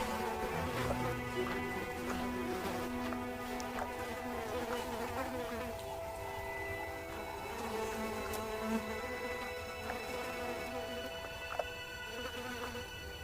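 Flies buzzing around a pride of lions in the Tanzanian heat, a steady close drone of many insects with faint outdoor ambience.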